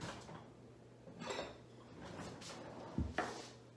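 A bowl being taken out of a kitchen cupboard, heard as a quiet door or drawer sliding followed by a couple of sharp close clinks near the end, faint overall with no talking.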